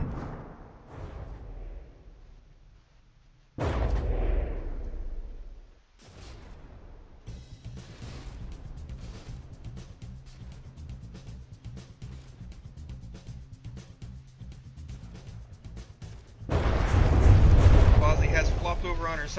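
Artillery fire and explosions from naval combat in the game From the Depths, with heavy booms, a dense crackle of repeated gunfire and a loud rumbling barrage swelling at the end.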